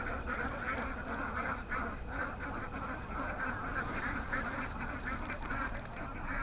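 Continuous quacking from many ducks in a duck pen close by, a dense, noisy chorus with no pauses.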